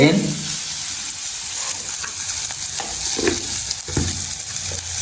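Onion sautéing in a pan, with a dense, steady sizzle close up and occasional scrapes and knocks of a stirring spoon.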